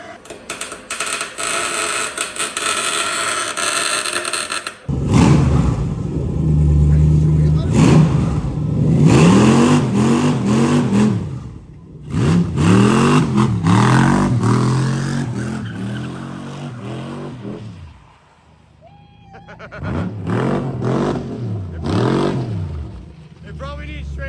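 Engine of a Chevrolet C10 burnout truck on its first test, loud bursts of revving that rise and fall in several surges with pauses between, close by, while people talk over it.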